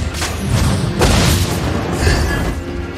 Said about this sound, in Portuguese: Você não pode escapar das minhas explosões.